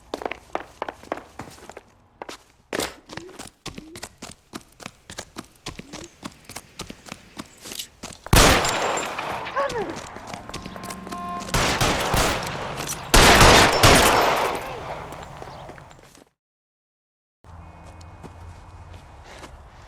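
Gunfire in the L.A. Noire crime video game: a long run of sharp, rapid shots in a steady rhythm, followed by bursts of loud, dense firing and noisy chaos, then a short silence and quieter sound.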